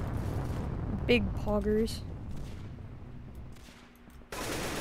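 Gunfire from the Roblox shooter Arsenal, a few sharp shots scattered among players talking, with a burst of loud noise at the end.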